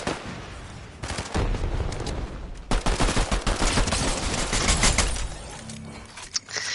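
Rapid bursts of gunfire from a Fortnite Zero Build match, loud and dense with overlapping shots from about one second on, shifting in intensity with some heavier impacts near the end.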